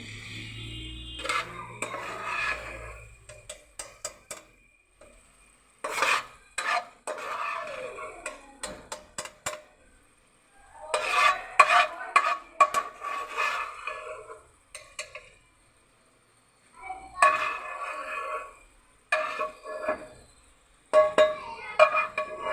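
Masala for a potato and capsicum (shimla mirch) salan frying in a pan, with intermittent bursts of scraping stirring and sizzling separated by quiet gaps, close and moderately loud.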